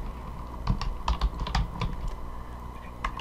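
Typing on a computer keyboard: a quick irregular series of light clicking keystrokes, close but fairly quiet over a faint background hum.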